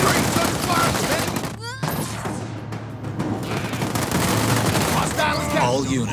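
A Halo Wars 2 battle rages with loud, continuous machine-gun fire and scattered booms, while in-game unit voices call out over the shooting.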